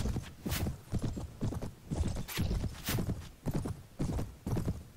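Horse hooves galloping in Mount & Blade, the Prophesy of Pendor mod, a steady rapid clip-clop rhythm close by with occasional neighs mixed in, no talking.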